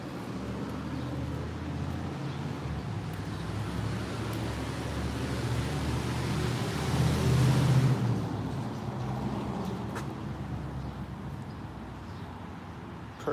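A car engine runs at a steady low rumble with a broadband wash of road or wind noise, swelling a little midway, with no talking.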